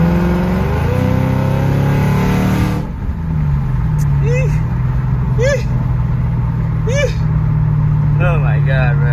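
A Lexus RC F's engine runs loudly throughout, with a steady low drone and a few short rising blips of revving, close to the microphone.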